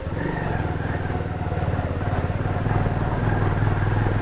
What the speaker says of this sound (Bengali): দেখি কে বলে 150 সিসির বাইক নাকি চড়াই ফড়াই করতে পারে না